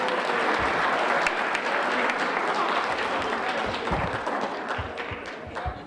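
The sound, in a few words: audience applause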